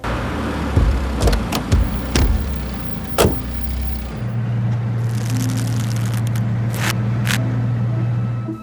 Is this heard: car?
yes